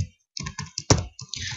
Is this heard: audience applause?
no